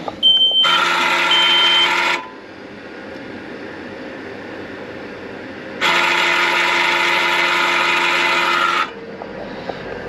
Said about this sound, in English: what we got is an actuator